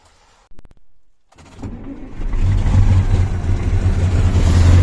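A KAMAZ 55102 truck engine catches after a few stuttering cranking pulses, then settles into a loud, rising rev that holds steady and heavy to the end.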